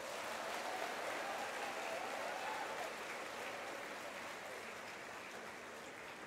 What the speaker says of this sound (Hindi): नरेंद्र मोदी जी के लिए जोरदार ताली बजाओ एक बार।